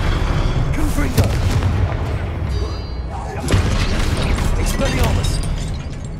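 The Confringo spell cast in Hogwarts Legacy: dense, booming bursts with fiery crackle, the strongest hits near the start and midway, over a busy, continuous game soundscape.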